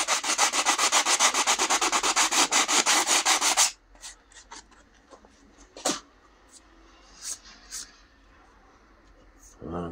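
A 3D-printed crossbow part gets a light sanding in fast, rhythmic, close rasping strokes for several seconds, followed by quieter handling clicks and taps.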